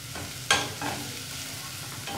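Onions fry in oil in a pan on a stove over high heat, a constant close sizzle with a sharp spoon scrape and a few stirring strokes.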